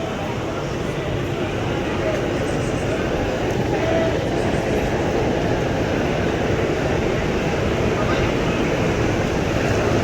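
A long-distance superfast Mumbai suburban local train bound for Kalyan rumbles past in a steady, loud, continuous roar of wheels and carriages that fills the whole stretch.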